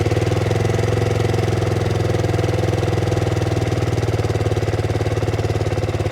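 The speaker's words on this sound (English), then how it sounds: "We'll go and turn the BSA on. Just listen to that." A BSA motorcycle with a decat exhaust idles steadily and close by, a loud, even, low-pitched throb that runs without a break and with no talk over it.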